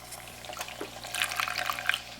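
Milk, half a cup, poured into a pot while making steamed molasses pudding: a faint, soft liquid trickle and splash lasting about two seconds, slightly louder toward the end.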